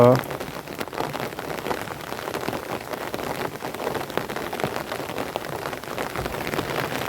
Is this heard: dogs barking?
no